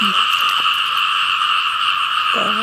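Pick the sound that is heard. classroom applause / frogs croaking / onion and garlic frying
frogs croaking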